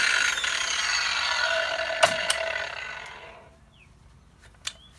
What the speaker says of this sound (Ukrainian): Одним словом, шикарна болгарка.